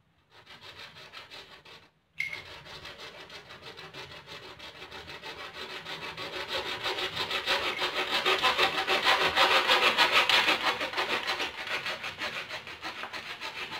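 A hand saw cuts an aquarium fountain water pipe into smaller pieces with steady, rapid back-and-forth strokes. After a brief pause near the start, the rasping grows louder and continues close up with no voices.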